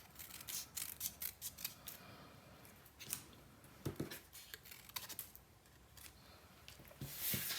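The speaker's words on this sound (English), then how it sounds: "We're only just cutting away that small amount of excess." Scissors snipping excess paper from a sunflower papercraft piece, a quiet close series of crisp cuts and soft rustles, with no talking.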